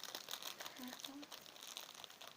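A plastic bag is handled up close while pony toys are unpacked, crinkling in short rustling bursts as a person talks over it.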